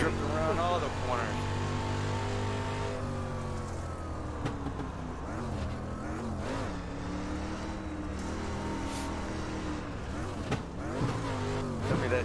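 Dirt track race car engine in the iRacing sim, a steady droning roar with rising and falling revs as it slides through corners, continuous and close throughout, with someone talking over it.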